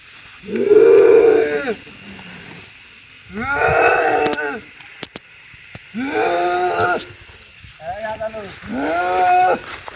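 Cattle moo loudly and close by, about five drawn-out calls with short pauses between them, over a steady high-pitched whine in the background.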